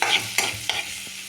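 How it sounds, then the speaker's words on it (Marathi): Chopped onion fries in a kadhai on a gas stove, a close sizzle punctuated by three sharp stirring scrapes of a spatula, fading slightly toward the end. "कांदा कापून तो गॅस कढईमध्ये असा लालसर करण्यासाठी टाका"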